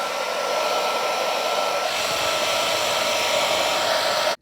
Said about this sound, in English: So we're going to get the hairdryer on it a bit more.